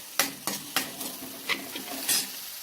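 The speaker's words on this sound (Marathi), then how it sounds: "कांदा लवकर परतण्यासाठी आपण थोडंसं त्यात मीठ घालून घेऊया." Onion sautéing in a pan with curry leaves and salt for sambar, a soft sizzle broken by about seven sharp scrapes of a spoon against the pan at an uneven rhythm, close and clear.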